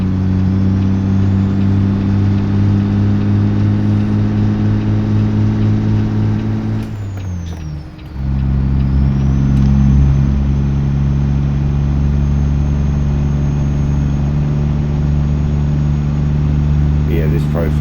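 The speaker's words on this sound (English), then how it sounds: "Manually shifting and splitting the gears" A heavily modded truck engine drones loud and steady in American Truck Simulator, its pitch dropping sharply during a manual gear shift and split before settling into a new steady hum, with a hiss of air along the way.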